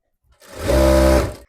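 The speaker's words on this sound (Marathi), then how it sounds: "हे फोल्ड करून पूर्ण ह्याला शिलाई मारून घ्यायचंय." A sewing machine runs in one short, loud burst of about a second, stitching along the folded waistband of a sari petticoat, with a close motor whir that ramps up and cuts off.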